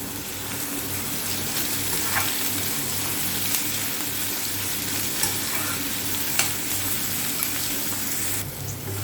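Onions and curry leaves fry in a pan with a steady, dense sizzle and crackle. A few faint utensil scrapes sound over the top, with no talking.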